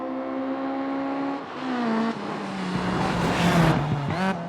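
Rally car engine in the Richard Burns Rally video game, with the tone rising and falling through gear changes and gravel stones rattling and crackling against the car's underside.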